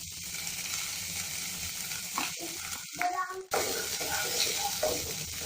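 Fresh peas sizzle in hot oil in a pan as a spoon stirs them, with a few scraping clinks partway through over a steady frying hiss.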